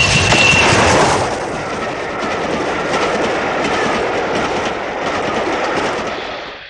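A preserved A2 steam locomotive, Blue Peter, runs to Glasgow, a loud close rush of train noise with rhythmic clattering of wheels on rail that eases slightly as it passes.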